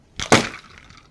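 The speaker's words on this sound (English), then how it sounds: "And just like that, the can is crushed." A heated can upended into ice water collapses with a sudden sharp crunching crack, a brief close burst that fades quickly into quiet.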